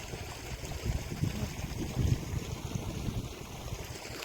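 An irrigation water pump motor runs on a farm while water rushes along a field channel, a faint low rumble with a gurgling, uneven flow and no talking.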